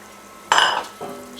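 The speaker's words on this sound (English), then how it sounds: "When the dish is coming to a boil," Drained tofu going into a simmering pot of Ma-Po Tofu, a sudden loud sizzling splash followed by a softer clink and stir, close and with no talk.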